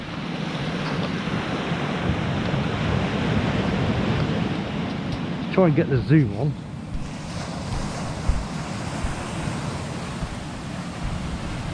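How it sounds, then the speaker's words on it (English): Rough sea surging against the shore at Lilstock on New Year's Eve, with a continuous loud roar of surf and gusting wind buffeting the microphone; someone speaks briefly partway through. "The sea's nice and rough."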